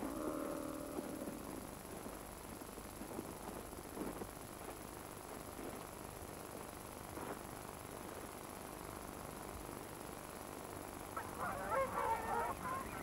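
A trumpeter swan calls in winter at Yellowstone, giving honking notes early on and a louder burst near the end, over a quiet, hissy background.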